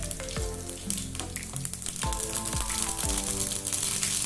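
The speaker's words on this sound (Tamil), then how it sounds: "எண்ணெய் நல்லா காஞ்சிச்சு. இப்போ கடுகு ஆட் பண்ணிக்கலாம்." Mustard seeds crackle and spit in hot oil for a ridge gourd skin chutney, a dense close-up fry with sharp popping bursts scattered throughout, no voices.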